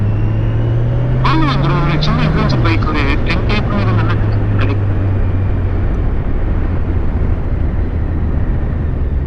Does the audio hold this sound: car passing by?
yes